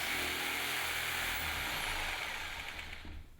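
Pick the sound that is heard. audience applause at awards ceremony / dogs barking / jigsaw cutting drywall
jigsaw cutting drywall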